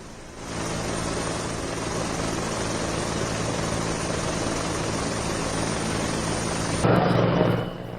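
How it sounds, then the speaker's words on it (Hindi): A helicopter hovers over a huge crowd of pilgrims at the Magh Mela on Mauni Amavasya at the Sangam, scattering flower petals. Its loud, steady rotor and engine drone holds throughout, with no voices. "हेलीकॉप्टर से फूल बरसाए गए तमाम श्रद्धालुओं पर"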